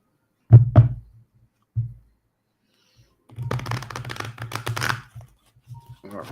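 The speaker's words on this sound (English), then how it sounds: "Got my cards shuffled." Playing cards riffle and snap in short bursts: a couple of quick flicks, a pause, then a longer fluttering shuffle, close and distinct.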